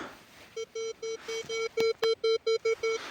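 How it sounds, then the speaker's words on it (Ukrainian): Metal detector in a farm field giving a wire signal: a run of about a dozen short, evenly spaced electronic tones, each a steady pitched beep, loud and clear against quiet background. "Це сигнал такий на проволоку."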